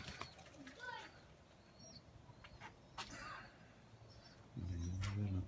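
Pigeon in flight during windy-weather training of tumbler pigeons outdoors, with soft wing flaps and flutters over wind noise, ending in a louder low rumble.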